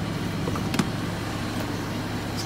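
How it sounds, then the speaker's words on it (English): A car engine idles with a steady low hum and faint rattle, continuous and close, with a couple of small clicks. "Car's running."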